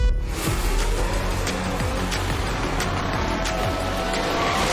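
Formula 1 race cars from F1 Manager 2022 roar off the start in a dense, loud engine blur, with repeated whooshes of cars passing close; no talking.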